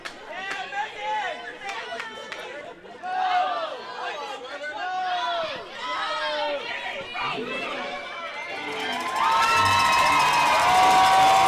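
A wrestling crowd at an event in Uniontown cheers, shouts and whoops continuously, with children's voices among them, swelling louder toward the end as the noise builds.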